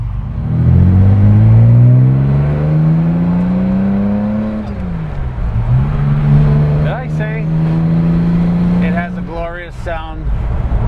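A 1960 Aston Martin DB4 Series 2 coupe with a handling kit, its engine droning steadily while cruising, the pitch rising, dipping as it shifts, then holding again, with voices talking over the later part.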